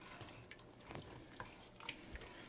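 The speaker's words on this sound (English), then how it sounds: "Let me get me some water to reload." Tap water runs into a pot in a home kitchen for a crab and corn bisque, a faint, uneven splashing stream with a few small clinks.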